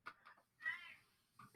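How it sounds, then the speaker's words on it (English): A cat meows indoors, one drawn-out call following a few shorter, fainter cries, fairly quiet against a calm room. "unfortunately meowing right now as she intently gazes at one of my snakes in its terrarium"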